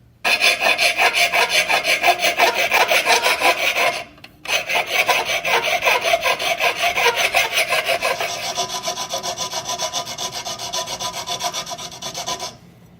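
A saw cutting 3/16-inch soft aluminum plate into intake flanges for a supercharged Honda CL175, a steady loud rasping with rapid strokes, a brief pause partway through, then continuing more faintly.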